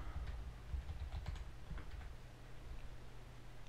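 Keys clatter on a computer keyboard as a game title is typed in, with quick irregular taps clustered in the first couple of seconds and sparser strokes later, fairly faint over a steady low hum.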